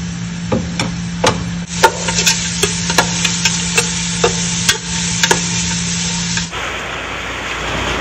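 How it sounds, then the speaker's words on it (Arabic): Two large onions stirred in a pan as they fry, with a steady hiss running beneath repeated sharp scrapes and knocks of a utensil against the pan, close and fairly loud; the hiss cuts off near the end, leaving a softer background. "هنا بصل حبتين كبيرة، نقلبها لحد ما تصفى شوية"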